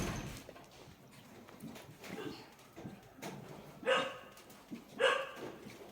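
A dog barks at a distance, two short sharp bursts standing out from faint outdoor background noise.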